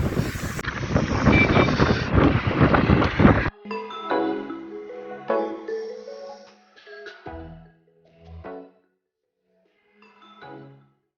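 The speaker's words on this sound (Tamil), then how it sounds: "காற்று வேறு மாதிரி அடிக்குது" Strong gusting wind at the seashore by Dhanushkodi during a storm roars loudly into the microphone for several seconds, then drops to weaker, broken buffets and quieter stretches.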